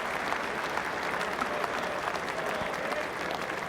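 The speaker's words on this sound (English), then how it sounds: "he leads the team off to applause from the members and the crowd here" A cricket crowd and members applaud steadily and fairly loudly at an England–West Indies Test as England's team leaves the field, a continuous dense clapping throughout.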